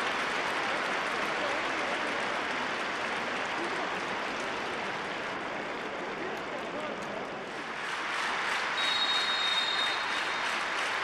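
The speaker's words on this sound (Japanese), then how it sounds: "拍手が起こります" Sustained applause from a football stadium crowd after a penalty-kick goal late in a Japanese J2 League match between FC Machida Zelvia and Albirex Niigata, a broad steady roar of clapping throughout, swelling slightly near the end.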